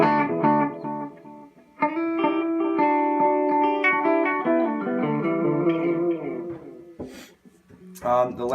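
Electric guitar through a tape echo set for dark, warm repeats, with sustained chords and notes trailing off into soft, blurred echoes for several seconds before brief noises near the end.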